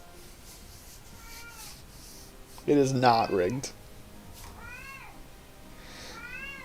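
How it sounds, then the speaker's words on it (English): A pet cat lets out a loud, drawn-out meow right near the microphone, preceded and followed by a person talking, with a few fainter meows later. "Oh, my cat is so loud."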